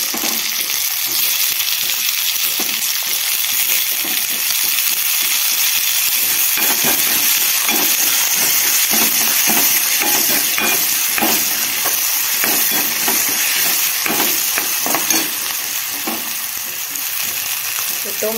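Onion and tomatoes fry in a pan, giving a steady, loud, close sizzle with crackling and stirring scrapes that runs throughout with no talk.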